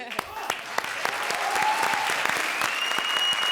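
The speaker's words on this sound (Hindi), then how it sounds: "जोरदार तालियां हमारे लिए।" Studio audience applause on a Comedy Circus stage, a steady wash of many hands clapping at close range, with a few cheers and voices mixed in throughout.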